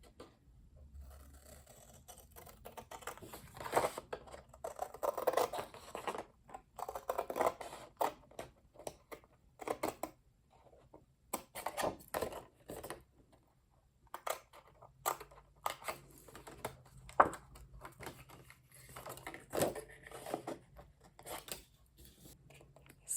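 Scissors cut pieces out of paper for a Halloween journal craft, heard as quiet, close, irregular snips and rustles in short bursts separated by pauses.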